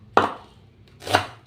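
Two crisp knife chops through spring onions on a cutting board, about a second apart, close and clear with no talking.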